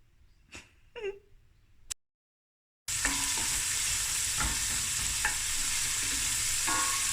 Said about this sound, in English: heat up my oil in my pot and just fry the onions until nicely translucent and golden